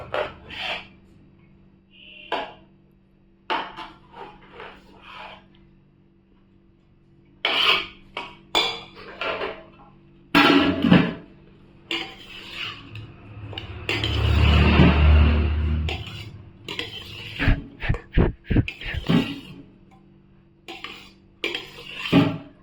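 A metal ladle scrapes and scoops chicken dum biryani rice from the side of the pot into another bowl, giving a string of close, rasping scrapes and light clinks in irregular bursts, with a longer rubbing stretch midway.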